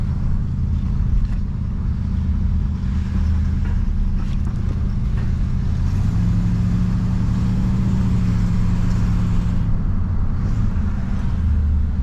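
A 1968 Oldsmobile Delmont 88 with a 455 big-block V8 drives along. Its deep engine rumble is loud and close and continuous, with a steady low drone that rises in pitch midway as it pulls harder.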